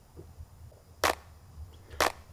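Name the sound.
clap sample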